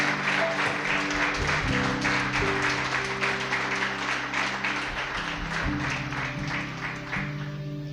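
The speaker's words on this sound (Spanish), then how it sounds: "Dale un fuerte aplauso al Señor." A church congregation applauds continuously as a broad, steady wash of clapping mixed with sustained music tones, holding at an even, fairly loud level throughout.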